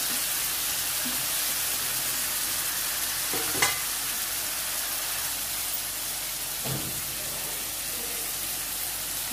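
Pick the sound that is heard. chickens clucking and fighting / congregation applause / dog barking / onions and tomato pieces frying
onions and tomato pieces frying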